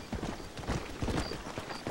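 Horses' hooves clip-clop steadily in a western-themed video game, a busy, close rhythm of many overlapping hoofbeats with no pauses.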